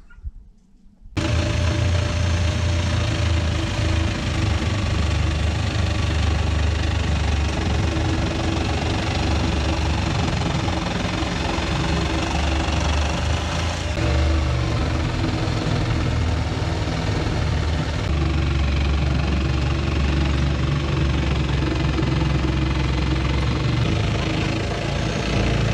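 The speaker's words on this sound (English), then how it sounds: "Neat little old generator. It's 2-cycle. Says it's 6 amps." A small old two-stroke generator rated at 6 amps starts up and runs loud and close, a steady buzzing engine drone with rough vibration that holds without a break for about 25 seconds.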